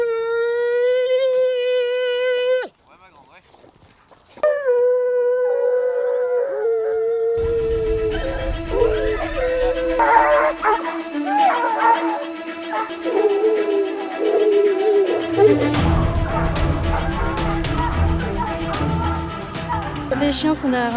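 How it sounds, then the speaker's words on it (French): Hunting dogs bay and howl on the trail of a wild boar, drawn-out cries at the start, then a busier mix of barking and other noise with talk over it. "Les chiens sont derrière un sanglier"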